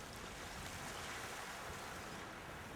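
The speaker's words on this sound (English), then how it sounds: "But I'll pour away some of this water first" Water is poured away in the adventure game Secret Files 2, a steady faint splashing rush that runs evenly for a few seconds with no voices over it.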